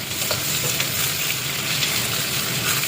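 Cabbage being stir-fried in oil, a loud dense continuous sizzle and crackle with the scrape of stirring, close up and without speech.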